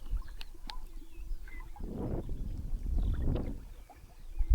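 A small fishing boat glides over a lake on a warm spring morning while out pike fishing, with faint water swishes and two soft swells of hull wash, wind buffeting the microphone and a few distant bird chirps.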